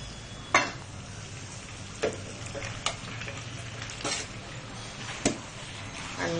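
Vegetables frying in a pan for a tomato vegetable pasta sauce, stirred with a utensil that knocks against the pan a few times over a soft, steady sizzle.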